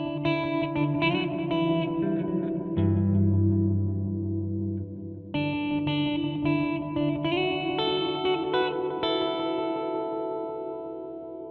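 A Death by Audio Destroyer series stereo pedal plays delayed guitar through its dark filter setting, giving sustained, smeared, pad-like tones with echoing repeats that ring out continuously and fade slightly at the end.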